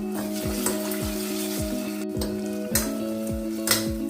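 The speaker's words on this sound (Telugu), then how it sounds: "దీంట్లోనే 1 స్పూను అల్లం వెల్లుల్లి పేస్ట్, అలాగే రుచికి తగ్గట్టు సాల్ట్, పసుపు కూడా వేసేసుకొని బాగా తిప్పుకుందాం" Onions frying in a pan with ginger-garlic paste, salt and turmeric, a steady sizzle broken by repeated scraping stirs at a regular pace, close up and with no talking.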